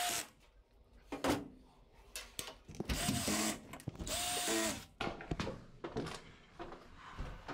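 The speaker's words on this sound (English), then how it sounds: "Then drive the four remaining screws home." A power drill drives screws into the lid of an LG washing machine, with short whirring bursts of rising and falling pitch separated by clicks and handling, close and fairly quiet.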